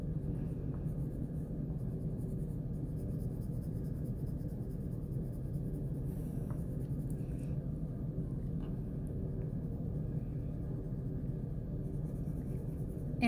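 A white colored pencil is pressed hard onto paper to smooth a graffiti-style gradient, giving a steady, continuous scratchy scraping that runs close and alone over a low room rumble.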